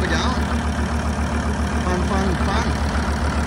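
A SAME Panther 90 four-wheel-drive tractor engine runs with its exhaust removed, a loud, close, steady low chugging idle with a rhythmic pulse throughout.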